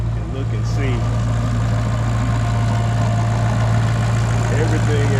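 A supercharged Audi RS5 with a JHM exhaust idles after a cold start, a loud, steady low rumble with a constant droning hum, while someone talks over it throughout.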